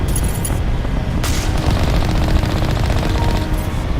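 Turret gunfire in the video game Mass Effect hammers out as rapid, continuous automatic bursts with heavy booming impacts, loud and dense throughout the whole stretch, with no speech over it.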